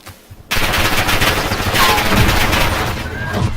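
Rapid automatic gunfire from a Call of Duty Warzone match bursts in after a brief quiet start and rattles on loud and dense for about three seconds.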